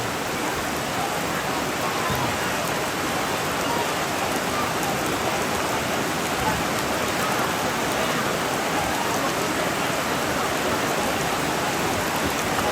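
Heavy rain pours steadily on surfaces outdoors at a church service, a dense, constant hiss that stays loud and unbroken throughout with no talk.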